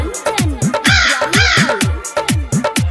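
A crow caws repeatedly as a sound effect in a Saraswati Puja devotional song. The loud, harsh calls come in a quick rhythmic series, close up, with no singing or talk over them.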